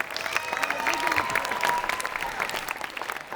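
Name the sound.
audience applause at a show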